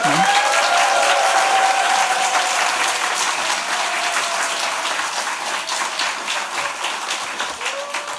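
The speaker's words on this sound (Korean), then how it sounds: "여러분 큰 박수로 환영하고 축복하도록 하겠습니다" A church audience applauds steadily to welcome a pastor at a summer revival service, a dense wash of clapping from many hands that holds throughout, fading slightly toward the end.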